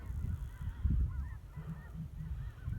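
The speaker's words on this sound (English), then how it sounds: "I hear geese." Geese honk faintly in the distance over a winter pasture with melting snow, their scattered calls rising above a low, rumbling wind background.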